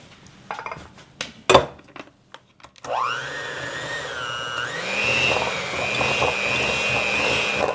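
An electric stand or hand mixer beats butter and sugar into light, fluffy snickerdoodle cookie dough, starting after a few kitchen clatters and then whirring steadily and loudly with a shifting motor pitch, no talking.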